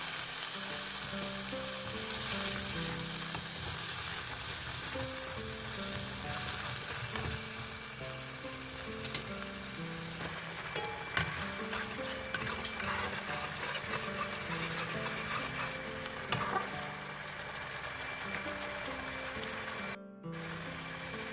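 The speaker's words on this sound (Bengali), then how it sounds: "এবার মশলার জলটা একটু দিয়ে ভালো করে কষিয়ে নেবো" Spiced water added to masala for a fish curry of tangra with cauliflower, eggplant and potato, frying and stirring in the pan: a steady loud sizzle with scraping stirs throughout, no talking.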